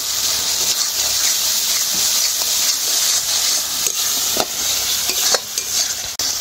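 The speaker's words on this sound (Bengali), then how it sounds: "সব মশলাগুলো একসাথে খুব ভালো করে মিশিয়ে নেব" Turmeric, chili powder and salt stirred in hot oil in a pan for paneer curry give a steady close sizzle with a hissing wash, broken by occasional spoon scrapes and taps against the pan.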